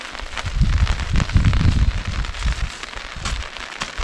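Steady rain patters on a tarp shelter in a wet Montana forest during an archery elk hunt, a dense close hiss with heavier bursts of drops, no voices.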